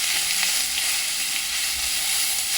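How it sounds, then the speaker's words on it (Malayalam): Onion and mustard seeds fry in hot oil in a pan for a pumpkin thoran, a bright, continuous close sizzle with light stirring and no voices. "ഉള്ളി മൂപ്പിച്ചു ആദ്യം പിന്നെ കടുക് പൊട്ടി"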